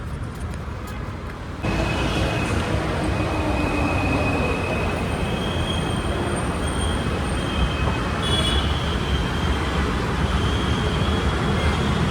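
A metro train rumbles loudly throughout at a metro station, with a steady rolling roar and faint high wheel squeals; no talking.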